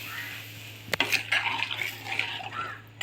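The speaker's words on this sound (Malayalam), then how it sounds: "ഈ നമ്മൾ ജ്യൂസാക്കി വെച്ചിരിക്കുന്ന പുളിവെള്ളം കൂടെ ചേർക്കാവേ" Tamarind water is poured into a pan of ginger curry, a soft liquid splash and sizzle following a sharp clink of the vessel, with a steady low kitchen hum underneath.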